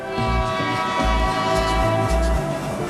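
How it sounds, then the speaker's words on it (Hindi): A train horn in an Indian police train simulator game blares as a long, steady tone with a layered pitch, playing continuously and loudly under low rumbling engine pulses. "एक बार हॉर्न बजाते हैं और फिर आगे ले जाते हैं।"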